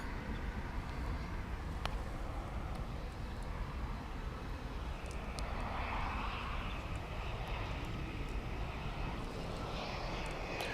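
An American Eagle regional airliner arriving from Chihuahua at DFW International Airport, its jet engines a steady loud roar that swells slightly as it passes, heard outdoors without speech.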